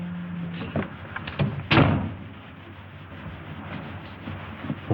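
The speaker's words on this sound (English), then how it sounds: "Close the door." A door in a 1937 film thuds shut below deck, a single solid knock amid faint room rumble and small handling noises.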